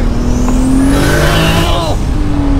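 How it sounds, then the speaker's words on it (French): Toyota Supra MK4 with a turbo, loud and close, roaring as it accelerates with rising engine pitch; a sharp release hiss from the turbo blow-off cuts in near the end, with excited voices heard faintly. "le bruit de la décharge de turbo"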